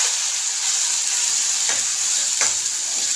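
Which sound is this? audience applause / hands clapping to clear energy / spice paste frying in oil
spice paste frying in oil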